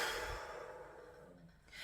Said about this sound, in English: And then a big exhale out.